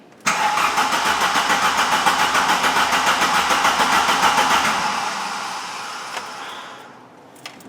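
A 1991 Volkswagen Jetta with a 2.0L 16-valve engine cranks loudly and steadily for about five seconds with a rapid rhythmic chug, then fades off, followed by a couple of faint clicks.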